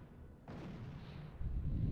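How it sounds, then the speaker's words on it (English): Artillery shells strike enemy depots in a real-time strategy game: one sharp blast bursts in and rolls into a sustained low rumble, followed by a second heavier thump near the end, moderately distant. "the artillery is hitting fire shots at the depots"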